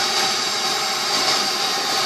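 Bissell Pet Premiere upholstery cleaner working on car seat fabric, a loud, steady whining motor with suction hiss that stays even throughout, with no voices.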